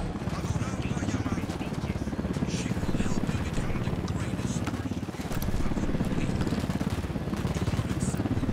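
A helicopter in the video game Ghost Recon Wildlands throbs with a loud, continuous, rapid rotor chop that stays close and steady throughout.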